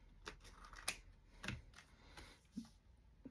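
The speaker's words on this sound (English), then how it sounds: "I'm holding this up to the light where so I can see where the book page is and cut it." Scissors snipping through a book page for an ephemera craft project, a few quiet, scattered clicks and cuts close by with soft paper rustle between them.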